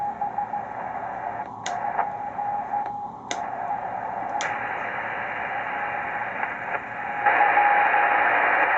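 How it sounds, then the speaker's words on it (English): A radio station received on a Ten-Tec Argosy 525 with the notch filter off, a steady hiss of static with a faint carrier tone, occasional clicks and a rise in noise near the end. "Now this is with the notch turned off."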